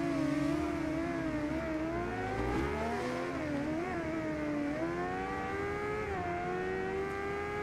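A Honda Hornet 600 motorcycle engine in RIDE 2, an older carbureted 600, droning steadily and close with the pitch rising and falling through gear changes and throttle shifts, with no talk over it.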